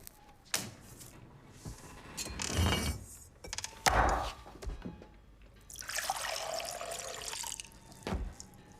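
Water is poured into a glass in a 1930s Birmingham setting, the trickle and splash heard among clinks, knocks and handling sounds, with a longer running pour late in the passage; no speech.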